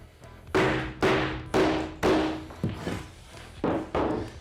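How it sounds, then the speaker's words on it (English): Claw hammer striking wood to knock out a notch: seven solid thuds at a steady beat, each ringing briefly, close and fairly loud. "I'm gonna take my claw and I'm just gonna hit the wood right here and pop it out"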